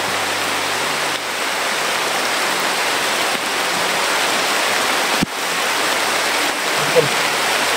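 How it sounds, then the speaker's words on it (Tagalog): Heavy rain falling steadily as a dense, continuous hiss, loud and close, with a couple of faint knocks partway through. "Ang lakas ng ulan tol."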